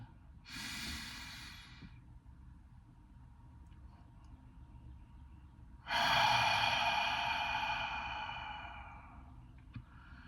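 A deep breath drawn in during a guided breathing exercise, then a longer, louder exhale, both close and airy with quiet between them.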